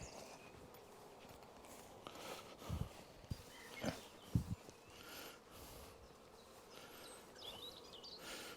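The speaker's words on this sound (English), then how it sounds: "The bees are all making their way back to here" Honeybees buzz and drift around an open hive as a nucleus colony is moved into a full hive, a faint, diffuse hum broken by a few soft nearby knocks and shuffles.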